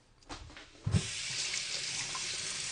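Hands washed under a running kitchen tap after eating a raw vegan salad; a steady, close stream of water splashes continuously after a few soft bumps at the start.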